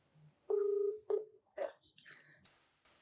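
Telephone keypad tones beep one after another as a number is dialed for a call, distinct and fairly close in an otherwise quiet setting.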